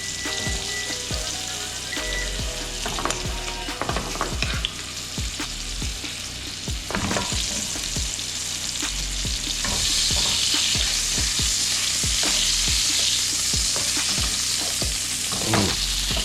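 Turkey burger patties fry in a hot pan while a spoon bastes their tops, making a loud, continuous sizzle broken by repeated scraping clinks of the spoon against the pan, close up and without talk.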